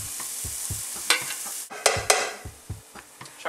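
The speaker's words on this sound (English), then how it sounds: "so now we're just going to fry up the onion and the garlic." Onion and garlic frying in a pan, a steady close sizzle with repeated scraping stir strokes and a few louder crackling bursts, no voices.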